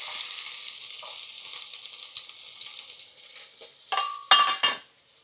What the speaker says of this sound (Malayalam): ചൂടായി ചെറിയുള്ളി ഇട്ട്